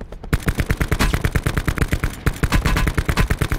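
Rapid automatic gunfire in a battle royale shooter game, a loud, continuous stream of evenly spaced shots with a brief break partway through.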